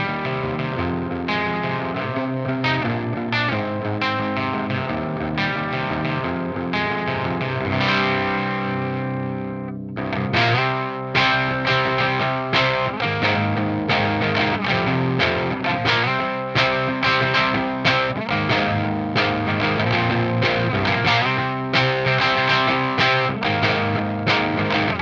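Electric guitar played through the HOD channel of a Crab Brown Eye amp, crunchy and distorted, with sustained chords and picked notes, a brief break midway, then rhythmic strummed chords, loud and alone.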